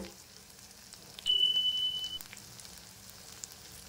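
Ground turmeric and cumin powder frying and being stirred in a pan for a soybean and potato curry, a soft sizzle rising for about a second then settling into a faint, steady crackle.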